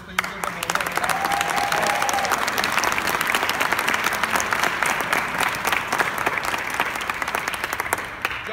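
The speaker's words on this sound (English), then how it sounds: "Please give them a round of applause." A crowd applauds a middle school team at an Odyssey of the Mind competition, with loud, dense, continuous clapping sustained for the whole stretch.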